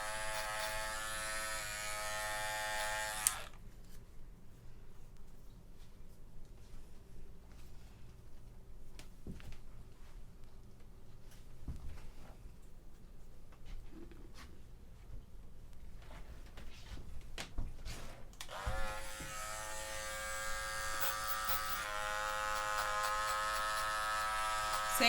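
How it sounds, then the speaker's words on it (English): An electric hair clipper buzzes steadily nearby, loud at the start, then quieter as the blade works through hair, with the strong whine returning near the end; no talking. "if a kid is scared of a clipper is because of the noise"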